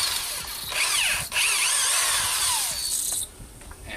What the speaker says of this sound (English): Just really softly go along the bottom with the drill brush.